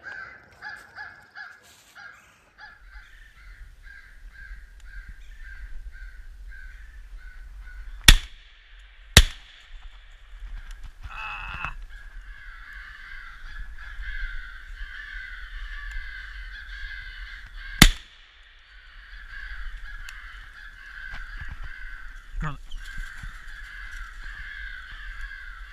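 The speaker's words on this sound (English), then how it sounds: "We're already starting to hear crows, so they should be here any minute." Several crows caw repeatedly at a distance during a crow hunt using an electronic call, overlapping in a steady chorus, with a few sharp, loud bangs and a low rumble beneath.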